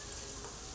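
A pan sizzles faintly and briefly while food is sautéed with salt for idli upma, giving a soft, steady crackling hiss with no talking.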